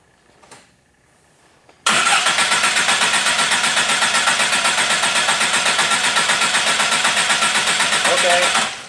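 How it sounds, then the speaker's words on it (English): A car starter cranks the engine in an extended crank test, a loud rapid rhythmic churning that starts abruptly after a brief quiet bit and holds steadily for about seven seconds before stopping. "Now, let's do an extended crank time."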